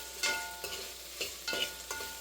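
Okra sizzles as it fries in a pan for sambar, while a spoon stirs in several distinct scraping strokes over a steady hiss, close and with no voices.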